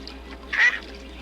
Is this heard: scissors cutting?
no